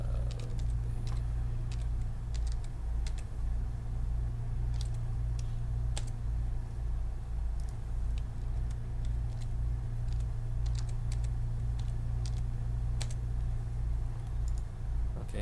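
Soft, irregular key clicks come from a computer keyboard while a password is entered, a quiet, continuous tapping over a steady low background hum, with no voices.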